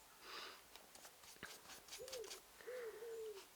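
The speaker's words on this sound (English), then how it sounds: "if you hear random bird sounds, it's because it's like the birds are super close to me" Birds call just outside an open window, a soft, fairly close cooing in two short drawn-out phrases near the end, faint over quiet room tone with a few small taps and rustles.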